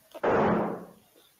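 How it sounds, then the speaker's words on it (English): A single sharp gunshot-like bang from The Mandela Catalogue horror series cracks loudly and decays over about half a second, with no voices during the clip. "Gunshot."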